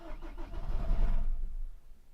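A car engine cranks and catches, a short churning start swelling into a low rumble that settles and fades within about two seconds, close to the microphone.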